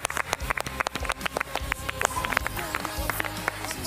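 A studio audience at a New Year's Eve television show applauds a singer, with dense clapping and scattered rhythmic claps heard near and lively throughout.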